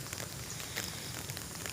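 Steady rain falling on a pineapple farm, a continuous broadband hiss with faint scattered patters, even and unbroken, no voices.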